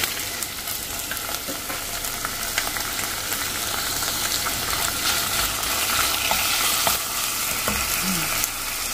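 Diced chicken cubes sizzle steadily in a hot pan while being stirred, a dense, continuous frying crackle that stays close and fairly loud throughout, with no talking.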